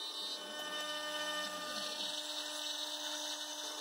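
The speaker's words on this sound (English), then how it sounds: "a 1/4 inch end mill is being used to mill the tenon" A 1/4 inch end mill cuts a wooden tenon, giving a steady high-pitched machine whine with a rougher grinding edge as the bit bites into the wood, constant and close throughout.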